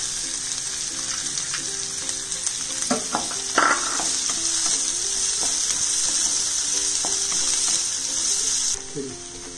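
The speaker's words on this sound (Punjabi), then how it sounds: "ਪਿਆਜ਼ ਨੂੰ ਥੋੜ੍ਹਾ ਜਿਹਾ ਹਲਕਾ ਬਰਾਊਨ ਕਰ ਲਾਂਗੇ। ਲਸਣ ਵੀ ਪਾ ਦੇਣੀ, 2-3 ਕਲੀ ਲਸਣ ਹੈ ਕੱਟੀ ਹੋਈ।" Chopped onion and a few cloves of cut garlic fry in a pan with a steady, loud sizzle, broken by a few sharp scrapes and stirring clatters, before the hiss drops slightly near the end.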